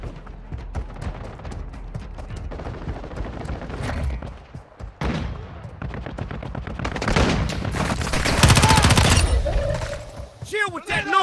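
Gunfire in the mobile battle game Call of Duty Warzone Mobile, with repeated rapid shots and bursts over a busy game soundscape, heaviest near the end, while voices talk over it.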